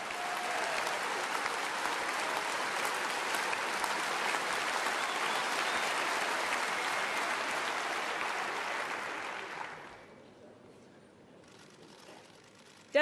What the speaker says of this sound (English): She's receiving the applause of delegates there.